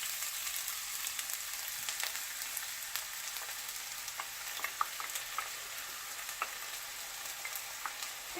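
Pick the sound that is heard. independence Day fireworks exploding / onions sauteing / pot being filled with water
onions sauteing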